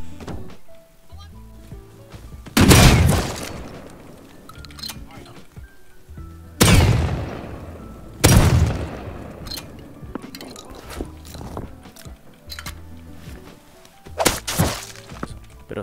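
Three loud, sharp gunshots in a video game ring out with long echoing tails, spaced several seconds apart, over faint background noise and quiet talk.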